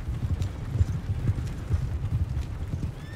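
Horses trotting in the Red Dead Redemption 2 video game, with steady rhythmic clip-clop hoofbeats close by and fairly loud throughout, no voices over them.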